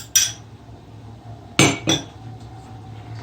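A spoon stirs orange syrup in a glass, producing a few bright clinks of metal against glass, one early and two close together later, over a faint background hum.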